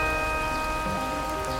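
Rain falls steadily as a sound effect in a Hindi horror story, a dense, even downpour under sustained tonal background music, with no voices.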